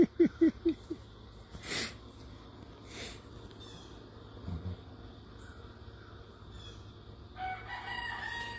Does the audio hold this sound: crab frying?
no